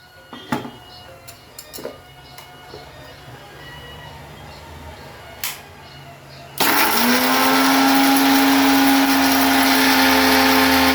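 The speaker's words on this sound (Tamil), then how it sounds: "இப்போ முதல்ல கொஞ்சம் தேங்காயும், வரமிளகாயும், ஜீரகமும் வறுத்து வச்சுருக்கிறத போட்டு அரைச்சிக்கிறோம்" Mixer grinder starts abruptly after several seconds of quiet kitchen clatter and then whirs loud and steady, grinding roasted coconut, dried red chillies and cumin for carrot chutney.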